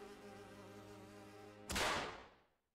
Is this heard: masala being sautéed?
no